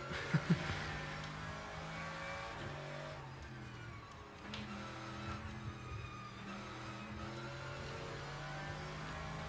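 Mercedes race car in Le Mans Ultimate on cold tires with understeer, a continuous engine drone with shifting pitch, brief tire noises and no talking.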